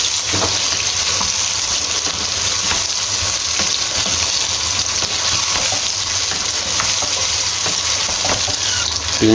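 Chicken and onion paste frying and being stirred in a pan: a steady, close sizzle runs throughout with faint scraping from stirring, and no voices.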